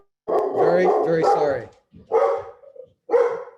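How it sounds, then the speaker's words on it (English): A dog barks in a session about revising the penal code, a few loud barks close by with a brief apology spoken over them. "That dog was trained in prison"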